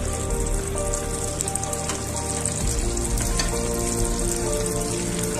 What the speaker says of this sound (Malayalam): ഇനി നമുക്ക് ബാക്കിയിരിക്കുന്നത് കൂടി ഇങ്ങനെയിട്ടിട്ട് ഫ്രൈ ചെയ്തെടുക്കാം.